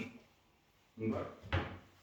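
A dormitory clothes drawer being handled, with two short wooden knocks and slides close together near the middle, close by in a quiet room.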